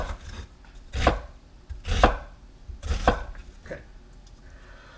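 A knife chops through an onion on a cutting board in three firm, evenly spaced strokes, close and distinct, followed by a softer fourth cut, with a brief spoken word.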